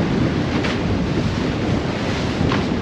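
Strong storm wind and crashing waves during storm Bret at a harbor, a steady loud roaring wash of surf and gusts buffeting the microphone, with no voices.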